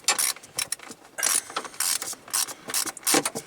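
A ratchet works at a stuck screw in a plastic cover during a dump truck heater core replacement, making close, uneven bursts of clicking and ratcheting in short strokes with brief pauses between them.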